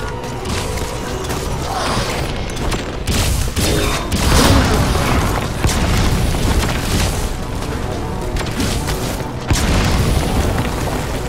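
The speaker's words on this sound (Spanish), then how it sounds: "Granada." Grenade blasts in Metal Gear Solid V: a series of loud booming bursts with rumbling tails, scattered across the stretch amid other combat noise and background music.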